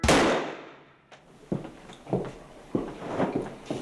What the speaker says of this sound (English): Weapons hot, test firing in